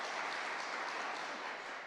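Applause from a church congregation honoring a woman being recognized, a steady dense wash of many hands clapping at moderate distance, fairly even throughout without speech over it.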